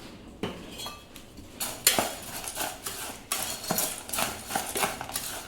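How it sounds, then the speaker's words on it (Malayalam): A spoon stirs aval mixture with turmeric and chilli powder in a metal bowl, giving repeated clinks and scrapes in an uneven rhythm, close and clear with no talking. "എന്നിട്ട് ഇതെല്ലാം കൂടി ഒന്ന് മിക്സാക്കി കൊടുക്കണം."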